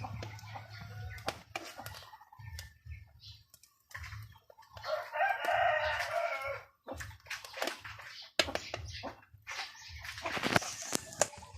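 Chickens cluck and a rooster crows loudly nearby, mixed with scattered knocks and rustling in a busy outdoor setting.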